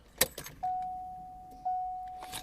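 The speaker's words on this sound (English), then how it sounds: "Fuel pump cycles." A 1990 Ford Mustang with AFR heads, TFS cam and RPM II intake: keys jangle sharply as the key is turned, then the fuel pump primes with a steady electric whine that fades, starts again and holds for about a second each time.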